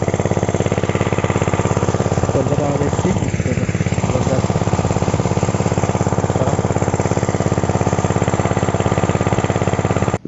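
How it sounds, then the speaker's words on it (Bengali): An irrigation water pump engine runs beside a village well near a mustard field, a loud, close, continuous rapid thumping that stays steady for ten seconds without a break. "মেশিন স্টার্ট করেছে কুমারে থেকে চলছে"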